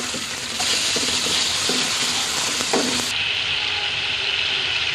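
Onion, ginger garlic paste, green chilies and tomato fry in hot oil for masala aloo baingan, giving a loud, steady sizzle broken by a few scraping stirs of a spoon in the pan.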